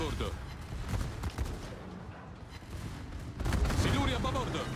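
Warship secondary guns fire in World of Warships, a dense run of overlapping booms and cracks mixed with broader battle noise, growing heavier toward the end.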